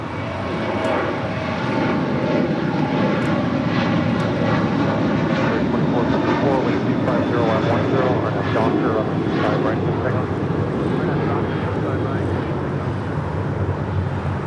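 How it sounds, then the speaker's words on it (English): A United Boeing 777 bound for Honolulu takes off from LAX's north side, a continuous loud jet engine roar with a broad rumble and faint whine, holding steady throughout while a person talks over it. "United 777 heading to Honolulu, taking off there on the north side"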